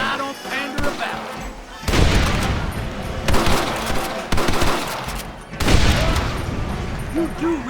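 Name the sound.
gunfire in a shootout, Red Dead Redemption video game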